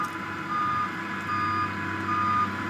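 Dump truck reversing alarm at a busy site where about a hundred dump trucks work, three steady beeps pulsing in an even rhythm over a loud, constant engine rumble.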